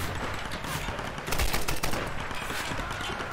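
Gunfire in the Tomb Raider video game comes as a quick burst of rapid, loud shots in the middle, with quieter scattered reports and ambient game noise before and after.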